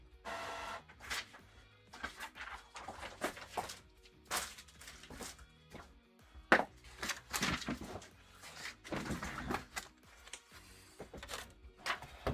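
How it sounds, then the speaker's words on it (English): An office printer runs through a print job in a quiet room, with a series of mechanical feeding whirs and clunks coming in bursts at close range. "I'm going to go grab that off the printer real fast."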